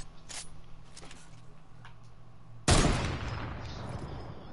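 A single sharp sniper-rifle shot rings out in a video game, a sudden loud blast after a quiet stretch, trailing off in a decaying echo.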